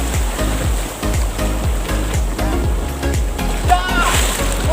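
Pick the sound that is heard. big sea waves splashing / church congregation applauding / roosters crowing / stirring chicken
big sea waves splashing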